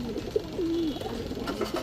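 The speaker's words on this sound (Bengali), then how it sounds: "টোটাল 3 জোড়া কবুতর এখানে" Pigeons of Pakistani fancy breeds kept in pairs coo softly nearby, one low drawn-out call between short murmurs over a steady background hum.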